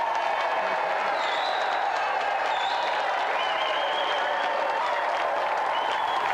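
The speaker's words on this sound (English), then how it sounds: "Another round of applause for Marlon Rose!" A studio audience claps and cheers for Marlon Rose on a games show, continuous dense applause with a few whoops rising above it.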